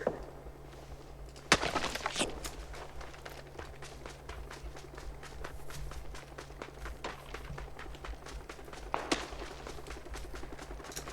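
Gunfire in a shooting video game, with scattered shots and short bursts at a moderate distance over running footsteps, a couple of sharper close cracks standing out.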